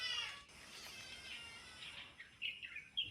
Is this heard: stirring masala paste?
no